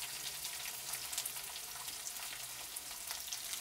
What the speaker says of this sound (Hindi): इसको हम थोड़ा सा सॉटे कर लेंगे।